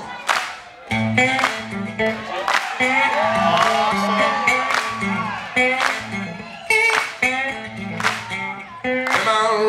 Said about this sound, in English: Can I get you to clap along?